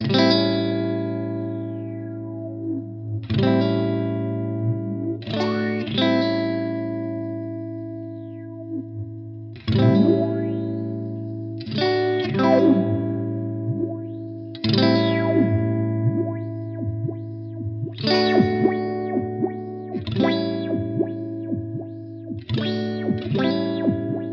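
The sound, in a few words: guitar envelope filter with rhythmically synced sine wave LFO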